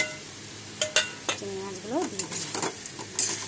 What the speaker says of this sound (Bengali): আর আমি সব একসাথে নেড়ে নেব, নেড়ে চেড়ে দেখাচ্ছি